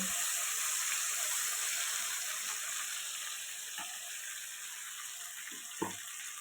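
Ground cashew, ginger and garlic masala fries in a pan with a continuous soft hiss, while a spoon stirs it with occasional light knocks against the vessel.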